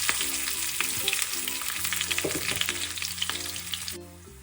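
Mustard seeds, fenugreek, garlic and curry leaves frying in hot oil for a Granny Smith apple pickle: loud, dense crackling sizzle with popping bursts throughout, dropping away abruptly near the end.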